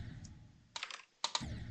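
Computer keyboard keys pressed while playing Geometry Dash, a few quick sharp clicks in short clusters, close and clear against faint background hiss.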